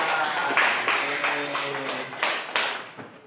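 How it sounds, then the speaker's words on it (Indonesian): In a teacher-training session, participants give a few scattered claps for the classmates who acted out the planets, sharp uneven hand claps mixed with voices and a hum of talk in the room. "Tepuk tangan untuk teman-teman di depan."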